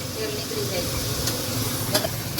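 Onions frying in a pan for dabeli, a steady close sizzle with occasional stirring scrapes, continuous and fairly loud.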